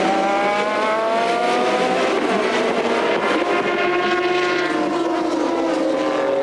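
Maserati MC12 GT race cars battle at Magny-Cours in an FIA GT race, their engines roaring loud and continuous with rising and falling pitch sweeps as the cars pass close together, with no talk.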